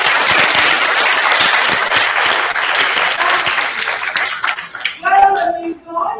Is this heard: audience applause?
yes